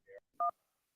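Two short electronic telephone dialing tones, a faint beep followed by a louder one, clean and isolated against silence as a phone call is placed.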